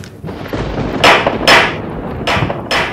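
Knocking on a door at night during rain, heard as a series of sharp, loud knocks in irregular groups over steady rain-like background noise.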